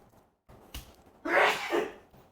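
A single sharp sneeze rings out close by, preceded by a quick intake of breath, in an otherwise quiet room.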